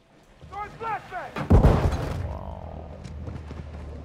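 Gunfire in Call of Duty Modern Warfare 2: a single heavy boom lands mid-clip and rolls off into a decaying rumble, preceded by a few short chirping game sounds.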